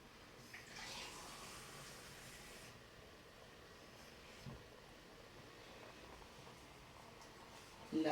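Water pouring into a Cookeo pressure cooker, a soft continuous hiss and trickle for a few seconds, fairly faint and close, followed by quiet handling noise.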